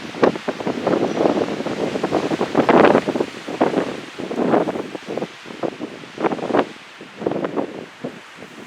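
A strong wind gust buffets the microphone on a mountain hike, coming in loud surging bursts that rise and fall over several seconds with no talking.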